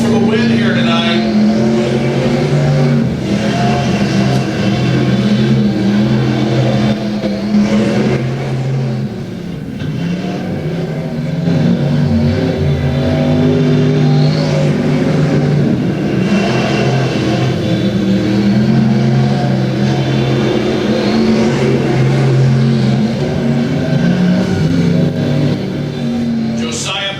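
B-Mod race cars battle for the win on a dirt track at Atchison County Raceway, engines roaring and revving in repeated swells as cars pass, with an announcer talking over the noise.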